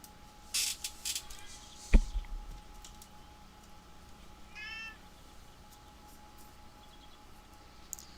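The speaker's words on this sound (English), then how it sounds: "Cat cam. Cat cam. Cat cam. Time for cats. It is the cat time." A cat meows a few times at moderate distance over a quiet background, with faint clicks like computer keyboard typing between calls and no talking.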